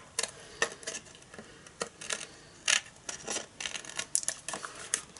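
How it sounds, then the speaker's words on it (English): Scissors snip off the overhanging edge of paper on a handmade Christmas card, a series of close, crisp cuts at an irregular rhythm with light paper rustling between them, no talking. "I'm just going to cut that off with my scissors."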